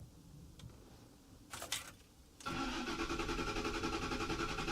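A Ford F-150 5.4L V8 engine with cylinder misfires cranks over during a relative compression test and then runs with a steady, loud mechanical drone, following a few quieter clicks and a brief burst of noise.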